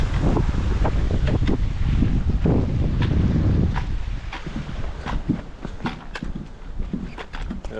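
Strong wind on a mountain trail near Mount Merritt buffets the microphone in loud, rumbling gusts, easing partway through to lighter gusts with scattered rustling and knocks.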